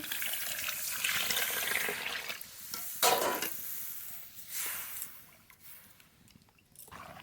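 Water is poured into a pan of mashed lentils while cooking, a steady splashing and hissing pour with a brief louder gush midway, fairly faint and close, with no voices.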